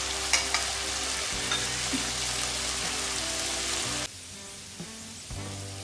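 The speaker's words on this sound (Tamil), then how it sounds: "உருளைக்கிழங்கு கொஞ்சம் ஃப்ரை ஆனோன்னா மசாலா சேர்த்துடலாம்." Potatoes frying in a pan for a potato and brinjal fry, a steady close sizzle with occasional stirring clinks, dropping to a quieter sizzle near the end.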